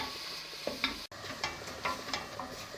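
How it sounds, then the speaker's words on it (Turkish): Soft scraping and stirring of mushrooms in a pot for cream of mushroom soup, over a steady low sizzle, with occasional light clinks of the utensil. "güzelce şöyle malzemelerimi karıştırmaya başladım"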